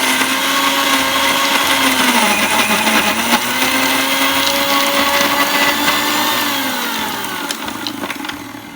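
Mixer blender re-grinding a dry peanut chutney, a loud close motor whine that holds steady and then dips slightly in pitch as it runs, alone without voices.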